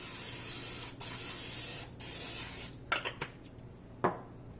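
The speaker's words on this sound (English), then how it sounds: "Just go ahead and spray it with Pam." Pam cooking spray hisses onto a baking pan in two short bursts close by, followed by a few faint clicks and rubbing knocks.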